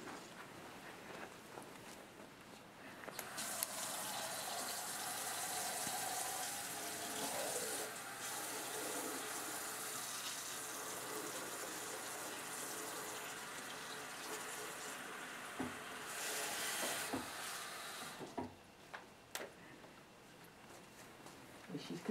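Water runs steadily from a tap to fill a foot basin in a clinical footcare setting, a continuous hissing gush lasting most of the time, fairly faint, with small clatters and soft background sounds around it.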